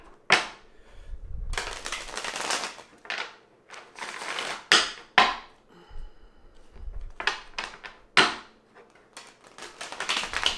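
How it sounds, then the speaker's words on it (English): Tarot cards shuffled by hand in quick riffling and tapping bursts, close and fairly soft, with brief pauses between shuffles and no talking. "I'm just going to take a couple shuffles for you."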